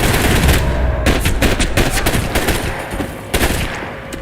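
Rapid automatic gunfire from the video game Max Payne 3, dense bursts of sharp close shots rattling continuously with brief gaps.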